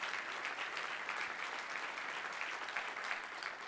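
Keynote audience at a tech conference breaks into steady, sustained applause, a dense wash of clapping filling the hall at a constant level throughout with no voices over it.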